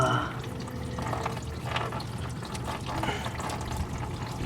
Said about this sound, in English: Some fluid's gonna leak out, and that's okay.